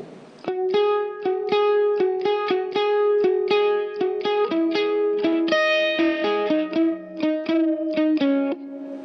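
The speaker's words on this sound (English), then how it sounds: "starts off with no delay, no POG, just violin and distortion" A violin played through distortion with no delay, a fast run of sharply bowed, buzzy repeated notes that climb and fall in a bright, gritty, guitar-like line, loud and close and played alone.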